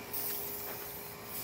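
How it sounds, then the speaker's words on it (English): Cleaner sprayed in a steady hiss over the carbon-caked cylinder head of a 2014 Dodge Ram 1500 5.7 Hemi, close and continuous, with a few brief bursts. "Spraying it down, trying to take a lot of that carbon out."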